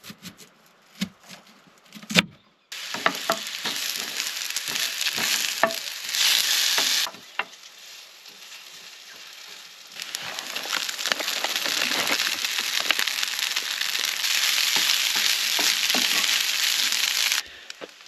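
Chickpea and sweet potato koftas fry in a pan, a loud close crackling sizzle that starts after a few quiet clicks, eases for a few seconds midway, then returns full and steady with scraping and stirring.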